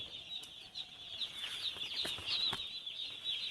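A flock of Cobb hybrid broiler chicks on a poultry farm in Assam keeps up a steady, dense chorus of high peeping that runs throughout, with a few sharper chirps standing out near the end.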